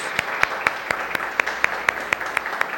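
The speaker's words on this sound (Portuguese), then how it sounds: "Vamos aplaudir a todas as mamães essa manhã" Applause from a church congregation honouring the mothers at a Sunday morning service, heard as a steady wash of clapping with sharp, evenly spaced louder claps punctuating it at a quick rhythm.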